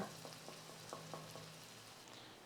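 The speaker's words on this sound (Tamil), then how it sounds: "நல்லா ஒரு ரெண்டு நிமிஷத்துக்கு இந்த வெங்காயத்தை வதக்கி விடுங்க" Onion sautéing in a pan for biryani gives a soft, quiet sizzle with a few light taps from stirring, all close up and fairly faint.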